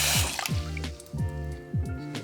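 Water poured into rice in a pot for cooking, gurgling, bubbly glugs in a repeating rhythm of about five pulses, close and fairly quiet with no voices.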